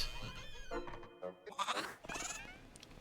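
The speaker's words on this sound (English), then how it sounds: "A goat." A goat bleats in the video game Little Goody Two Shoes, two or three short, quiet wavering cries mixed with game sounds and a few soft thunks.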